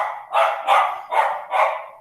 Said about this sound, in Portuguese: Desculpa aí os cachorros latindo aqui em casa.